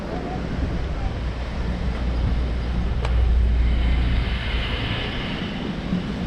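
Steady wind and rolling ocean surf on a cool, breezy day at Long Beach make a continuous broadband roar that swells slightly midway, with no clear voices over it.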